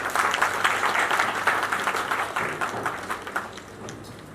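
An award-ceremony audience claps for a lifetime achievement award, a dense round of applause that starts strong and gradually thins and fades over several seconds.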